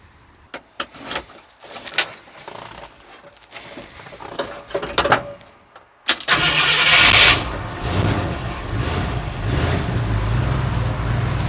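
A 1969 Ford F100 pickup truck's engine is started after a few seconds of keys jangling and clicks. It catches with a loud burst, then settles into a steady, close idle.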